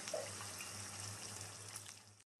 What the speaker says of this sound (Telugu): వాటర్ యాడ్ చేసుకుంటున్నాను